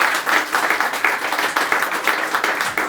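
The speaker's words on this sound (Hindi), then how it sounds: "एक बार जोरदार तालियाँ।" Audience applause at a stand-up poetry performance, a steady burst of clapping from many hands that carries on for about three seconds.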